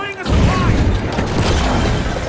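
A frag grenade goes off in a video game, a loud broadband boom with a rumbling, debris-filled tail that stays dense and sustained throughout.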